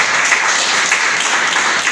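A church congregation applauds during a Passover and Lord's Supper service, a short burst of dense, steady clapping at a loud, even level.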